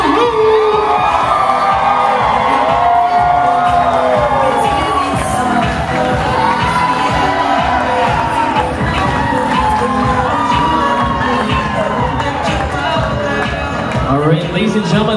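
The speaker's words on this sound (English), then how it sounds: "how about a big round of applause for our maid of honor and our best man tonight?" Wedding guests cheer, whoop and shout loudly for the maid of honor and best man, a dense continuous crowd roar that lasts throughout.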